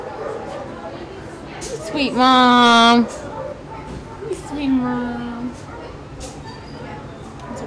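Dogs at an animal shelter give loud, drawn-out whining yelps and whimpers, two long cries standing out close by, while people talk softly alongside.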